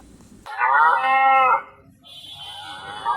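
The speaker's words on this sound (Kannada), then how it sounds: "ಹಸುವಿನ ಶಬ್ದ" A single loud, close cow moo lasting about a second, followed by softer, breathy lowing and quiet background noise.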